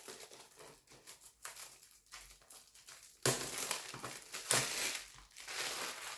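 Close crinkling and rustling of plastic wrap torn off a DVD movie case, quiet at first, then louder crackles as the wrapping comes away.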